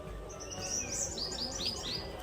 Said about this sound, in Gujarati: અહીંયા મસ્ત મજાની ચકલી છે.